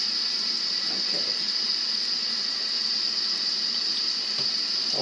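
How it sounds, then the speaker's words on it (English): Tap water runs steadily from a faucet over a hand at a sink, a continuous close hiss with no talk over it. "Put my hand under the water."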